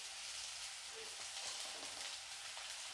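Garlic and spices fry in a pan with a continuous low, soft sizzle and faint crackle throughout; no one speaks.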